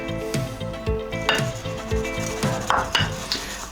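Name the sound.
stirring flour into Dutch pancake batter with a spoon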